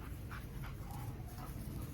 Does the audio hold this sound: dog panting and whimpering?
yes